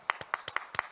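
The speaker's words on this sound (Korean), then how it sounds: "저희가 감사와 환영의 박수를 드리겠습니다" A few distinct hand claps, about eight sharp separate strikes in an uneven rhythm, given in thanks and welcome to a professor at the 2021 Jeju Forum youth session.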